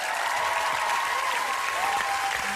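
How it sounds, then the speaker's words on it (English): A live television studio audience at The X Factor 2008 applauds the show's judges with dense, continuous clapping, loud and sustained throughout, with faint cheering mixed in. "Round of applause for our judges."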